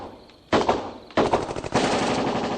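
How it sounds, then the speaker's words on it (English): Many bullets fired in rapid succession, a loud clattering burst of automatic gunfire that starts abruptly, pauses briefly, then resumes as a dense, continuous rattle. "I can't see anything, but it sounds like someone's being shot. Too many bullets are being fired for one person to be shot."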